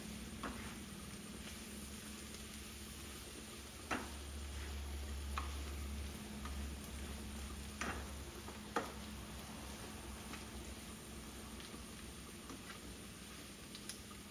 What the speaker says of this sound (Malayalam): തക്കാളി ചേർക്കുന്നു. തക്കാളി മൊത്തം കൂടെ മിക്സ് ചെയ്യുന്നു.